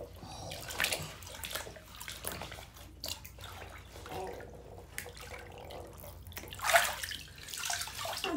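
Water running in a shower or bathtub, a steady wash of spray with sloshing bursts, at moderate distance and fairly quiet, with brief voices in the background.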